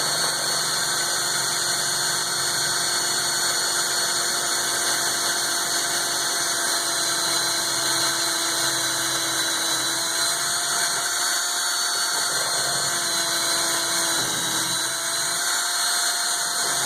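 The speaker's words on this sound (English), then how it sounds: "when the drill bit comes through, it'll chip the bone" A power drill bores through bone backed by a backer board, giving a steady, loud mechanical whine and grinding hum that runs continuously, with slight dips in load near the end as the bit breaks through.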